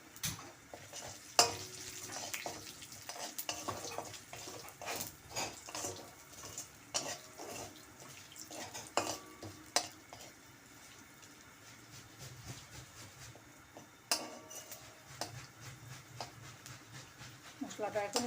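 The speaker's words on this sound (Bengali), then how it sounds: "মশলাটা এখন একটু ভাজা ভাজা হয়ে গেলে" Dried red chilies, cumin seeds and bay leaves frying in hot oil in a pan, a steady sizzle with scattered stirring scrapes and clinks, heard under background sounds with speech nearby.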